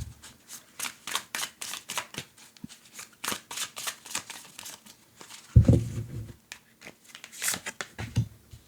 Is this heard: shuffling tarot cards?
yes